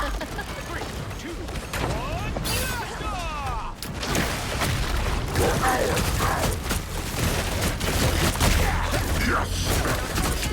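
Fireworks burst and crackle in a Marvel hero-shooter video game match, dense overlapping pops and booms sustained over several seconds amid busy game effects and music, with character voices talking throughout.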